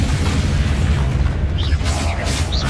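Bombarda explosion spell in Hogwarts Legacy combat: a dense, rumbling blast sound sustained throughout, with low booming energy and scattered whooshing spell effects layered over continuous battle noise.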